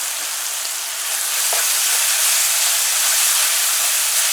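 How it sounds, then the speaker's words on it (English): Curry paste frying in a pot for a Guyanese bunjal chicken, a steady close sizzle and hiss with a brief scrape of stirring partway through, no talk. "your curry paste you want to keep turning"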